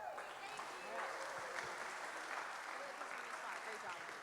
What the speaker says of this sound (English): Round of applause for Alice and our Kauai Resilience Project